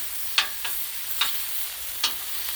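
Country style ribs and vegetables sear on a Blackstone griddle, a close steady sizzle punctuated by four sharp spatula scrapes and taps at irregular intervals, no voices.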